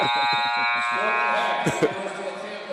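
End-of-half buzzer at a men's college basketball game between Tampa and Trevecca Nazarene, a sustained loud electronic buzz lasting a few seconds while a commentator talks over it.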